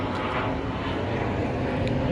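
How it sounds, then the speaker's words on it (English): An airplane flying overhead, a steady broadband engine drone that fills the whole stretch at moderate loudness without fading. "I hope you guys can hear me with that plane."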